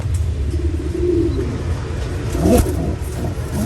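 Soft pigeon coos murmur close by over a steady low background rumble, with a slightly louder burst near the end.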